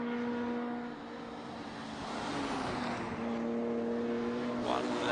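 Race cars, including an older BMW, run an endurance race on a track, engines droning steadily with a rising pass, under a commentator talking throughout.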